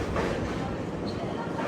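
The Amrit Bharat Express runs on its inaugural journey through Kerala from Thiruvananthapuram North toward Charlapalli, heard from inside as a loud, steady rumble of wheels on rails with a faint clickety-clack.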